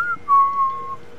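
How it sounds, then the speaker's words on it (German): A game character whistles in Metal Gear Solid 4: a short high note, a brief pause, then a long sustained tone that slides slightly and fades out, clear and alone over a faint background hum. "Oh, er pfeift wieder"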